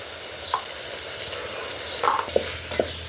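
Red chilli powder, black masala, turmeric and coriander powder stirred and sautéed in a pan over a wood-fired stove for dal khichdi, a soft sizzle with a few scraping strokes of a spoon, close, no talking.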